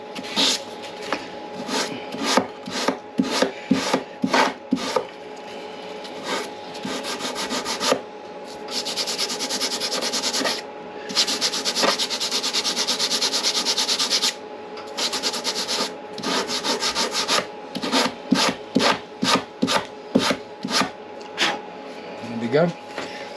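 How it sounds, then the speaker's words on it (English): Coarse sandpaper on a sanding block scrapes along the edge of a Depron foam sheet held at a table's edge, in quick rhythmic strokes with some longer continuous rubs, close and fairly loud, with a voice speaking between passes. "Let me just get my sanding block. Again, this is quite coarse sandpaper."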